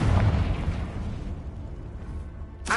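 A Confringo spell blast in Hogwarts Legacy: a loud, booming explosion that rumbles and slowly fades, followed near the end by a sharp fresh burst.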